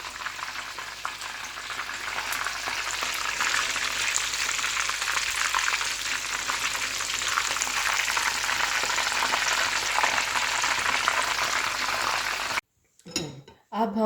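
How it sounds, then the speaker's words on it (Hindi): Chicken pieces for a zinger burger deep frying in oil at medium heat, a loud steady crackling bubble that runs close and unbroken for about twelve seconds, then cuts to a short burst of talk. "इसको टोटल 6 to 7 मिनट्स के लिए मैंने फ्राई किया था मीडियम हीट पे"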